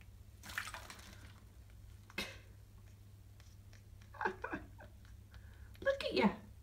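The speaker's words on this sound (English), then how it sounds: "That is your water bowl, not a bird bath." A Quaker parrot splashes in its water bowl indoors, producing quiet scattered bursts of flicking and splashing water with pauses between, while a person talks nearby.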